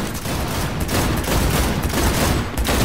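Dense, continuous gunfire from a Cyberpunk 2077 firefight, with several weapons shooting at once in a loud, overlapping barrage that runs without a break.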